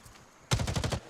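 In the video game Lost Rift, a rapid burst of about seven gunshots in quick succession, loud and close, following a moment of quiet with faint soft footsteps.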